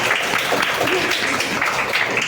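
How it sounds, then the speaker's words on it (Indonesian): Classroom clapping from students praising a classmate's answer during a lesson, a dense, even patter of hands filling the room throughout. "Boleh kasih tepuk tangan dulu."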